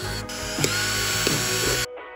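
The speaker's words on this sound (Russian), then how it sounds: "Берем сверло и делаем в дне дырочки" Steady whirring of a drill boring holes through the bottom of a plant pot, with a few brief clicks and shifts in pitch before it abruptly stops.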